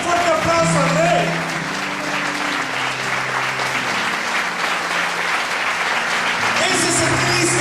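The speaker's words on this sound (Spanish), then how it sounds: "Dale un fuerte aplauso al Rey." A church congregation claps loudly and continuously during a Spanish-language sermon, with shouts, cheers and voices ringing out over the dense clapping.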